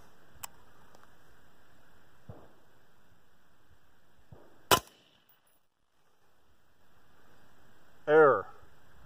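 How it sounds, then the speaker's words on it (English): A single sharp, loud rifle shot of M193 5.56 FMJ fired at a CATI level III+ steel armor plate about 20 feet away, preceded by a few faint clicks and followed later by a brief voice-like sound. "Guess I have to shoot it again."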